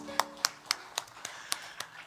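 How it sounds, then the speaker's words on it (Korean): A congregation clapping in church, evenly spaced rhythmic claps roughly four per second, fairly quiet and slightly distant, over a faint background hum. "우리 하나님께 영광의 박수 돌리겠습니다"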